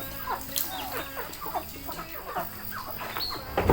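Chickens on a Thai Khok Nong Na farm plot, fed on paddy and milled rice, cluck in a busy, overlapping chorus of short, close calls that continue throughout with no talking.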